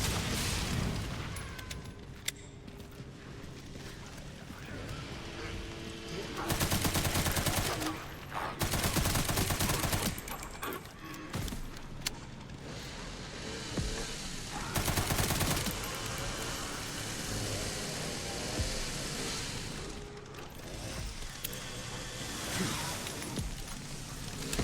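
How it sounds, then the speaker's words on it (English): Gunfire from a shotgun in the survival horror game Resident Evil Requiem, several loud broadband blasts in separate bursts around the middle of the stretch, over dense game noise and ambience. "I hear a shotgun"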